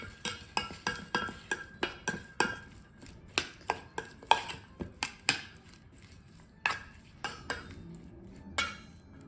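A utensil clinks and scrapes against a pan in quick, uneven strokes as a shrimp salad with minced garlic, salt, pepper, Dijon and tarragon is tossed together, with close, crisp metallic ticks and no talking.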